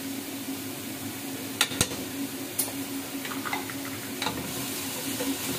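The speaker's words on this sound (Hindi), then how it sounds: "तेज आंच पे इसको भूनेंगे हम।" Chicken keema frying on high flame, a steady soft sizzle with a few sharp scrapes and clicks of stirring scattered through, close and fairly quiet, no voices.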